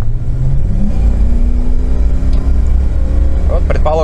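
A Toyota Land Cruiser 80 fitted with a 4.7-litre V8 accelerates hard from about 50 to 110 km/h, a loud close engine drone rising steadily in pitch, with a voice briefly heard near the end.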